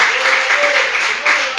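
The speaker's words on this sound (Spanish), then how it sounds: "Denle en palmas" A church congregation clapping together in steady, close applause throughout, with a faint voice beneath it.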